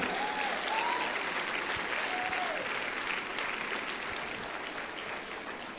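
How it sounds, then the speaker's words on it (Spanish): Church congregation applauding during a sermon, a steady broad wash of many hands clapping that fills the whole stretch and fades slightly toward the end, with a few faint vocal cries drifting over it. "Si lo crees, dale un aplauso a Jesús."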